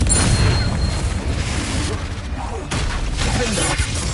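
A Confringo fire spell bursts during Hogwarts Legacy combat as a rough, broadband blast. Rumbling crackle runs throughout with a brief dip midway, and a voice is audible over it.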